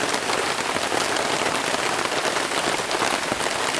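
Rain pours down steadily on a campsite, a dense, even hiss of drops on surfaces that never lets up, loud and close with no voices.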